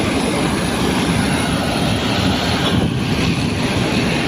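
Airliner engines of a Lion Air flight at Makassar before departure to Ambon, a steady loud broadband roar and whine with no voices.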